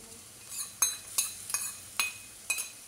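A utensil scrapes and clinks against a pan about every half second while fried egg is stirred into chicken vegetable pasta, crisp, close and steady with no talk.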